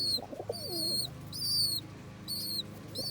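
Low, rolling coos of Indian fantail pigeons close by, with repeated high chirps or squeaks coming in short bursts over a steady background hum.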